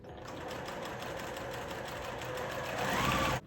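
A sewing machine runs steadily, chain piecing small one-inch quilt block squares, a continuous close mechanical whir for the whole stretch, rising slightly toward the end and stopping abruptly.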